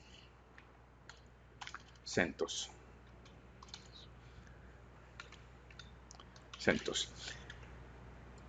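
Computer keyboard typing while naming a CentOS virtual machine, scattered key clicks with two quick bursts of rapid taps, heard under someone speaking.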